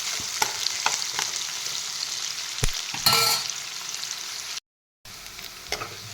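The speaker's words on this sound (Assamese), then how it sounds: "প্ৰথমতে পিঁয়াজখিনি অলপ নৰম কৰি লওঁ" Onions sizzling steadily in a hot pan, with a few scraping stirs and a brief clang of a utensil partway through, heard close without talk.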